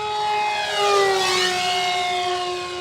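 A radio-controlled F-14 Tomcat model jet, 800 mm span, makes a full-throttle pass with a loud, steady whine whose pitch sweeps as it rushes past overhead, with no one talking.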